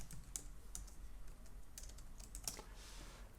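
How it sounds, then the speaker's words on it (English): Keys clattering on a computer keyboard during photo editing work, quiet irregular clicks with a few sharper strikes, heard alone without talk. "Actually, my typing is bad."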